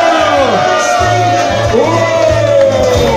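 Men in a corner of the crowd shout and whoop during a wet T-shirt contest at the Mikulov beer festival, rowdy voices rising over a compère's amplified talk and thumping music.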